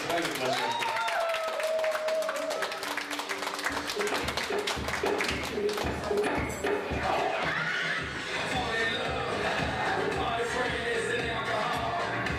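Applause and crowd noise at a wedding party as the newlyweds are invited onto the dance floor, loud clapping mixed with cheering voices, festive music and talk throughout.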